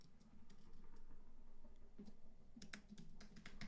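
Quiet typing on a computer keyboard, with soft irregular key clicks that run into a faster burst of taps near the end, close by with steady low background hiss.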